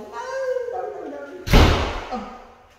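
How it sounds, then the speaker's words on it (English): Wind catches a door and slams it shut with a single loud, close thud that fades away, following a person speaking. "Slam the door."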